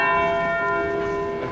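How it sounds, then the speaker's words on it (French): A bell rings with a sustained, loud metallic tone whose overtones hang steadily throughout, with no voices present. "C'est avec la cloche"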